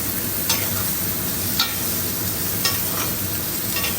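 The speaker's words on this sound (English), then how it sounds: "Baste our steak." Steak being basted with 30 grams of melted butter in a hot pan, a loud continuous close sizzle with spoon scrapes roughly every second as butter is ladled over the meat.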